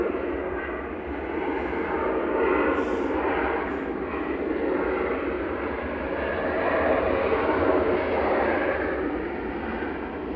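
A Jet2 Boeing 737-800 arriving from Prague roars in as a broad, steady engine rumble that swells and fades slightly over several seconds at an airport, loud and unbroken with no talking.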